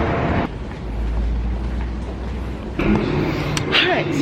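Dubai metro train riding along, a steady low rumble and rail hum with a shift in tone partway through, heard from inside the carriage with some faint background noise.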